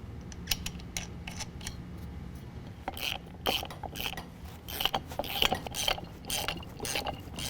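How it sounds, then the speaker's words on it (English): A ratchet clicks in short bursts as nuts are tightened down on a 6-inch lift kit for a 2015-17 Ford F-150 4WD, quiet and close with uneven pauses between strokes. "you're going to tighten these down to 40 foot-pounds"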